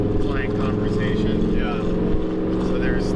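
An ICON 4x4 vehicle with a rowdy exhaust drones in a loud, steady engine rumble throughout, with people talking over it.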